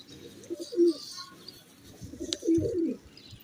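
Domestic pigeons of a pure Sialkoti breed coo in soft, low repeated phrases, two clear bursts close by over a faint background hiss, with no voices.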